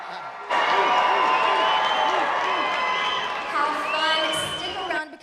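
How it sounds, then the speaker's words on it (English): A live crowd at an esports event cheers, whoops and applauds loudly and continuously, with a steady roar that swells near the end, accompanied by some whistles and shouts. "the crowd is about to show you one more time how excited they are"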